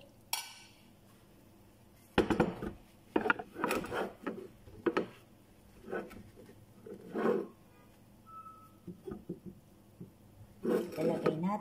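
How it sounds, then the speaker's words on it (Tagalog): Cheesy mushroom spaghetti being served onto a plate, with scattered clinks and scrapes of utensils against dishes coming in short irregular bursts at close range. "Ilalagay na natin sa ating plato."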